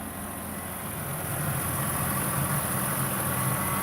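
A 2008 BMW E92 engine idling, a steady close-up hum and low rumble that holds even and unbroken throughout, with no voices over it.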